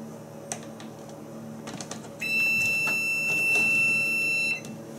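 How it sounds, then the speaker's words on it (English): A sustained electronic beep tone from an Amana Radarange RR-6W microwave sounds for about two seconds, clear and close, after some light clicking and background hum. "And there's the beep."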